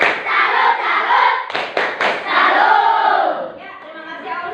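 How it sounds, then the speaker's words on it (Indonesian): An elementary school class does a rhythmic clapping chant, with many children's voices calling out together over a quick burst of claps, close and loud in a classroom. "Beri tepuk salut untuk Aul."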